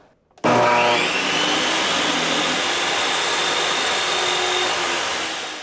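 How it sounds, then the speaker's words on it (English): A Ryobi 10-inch table saw, powered by a portable power station, starts abruptly and spins up to a loud, steady high-pitched motor whine and blade hum, running close by without talk. "Now we're going to do the 10-inch Ryobi table saw."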